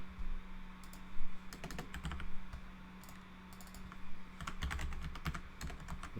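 Rapid bursts of keystrokes on a computer keyboard while a user works in iOS Swift code, clattering in several uneven runs over a steady low hum, with no talking.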